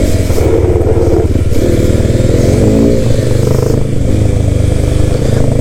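A Hero Xpulse 210 motorcycle engine drones loudly and steadily throughout, close by, with rattling and slight revving during off-road riding.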